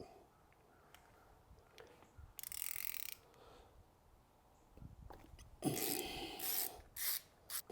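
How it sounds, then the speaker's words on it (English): Ratchet turning a 13/16 spark plug socket to remove spark plugs from a classic Mini cylinder head, heard as two close bursts of rapid mechanical clicking separated by quiet workshop pauses. "It looks like I'm going to use a 13/16 spark plug socket."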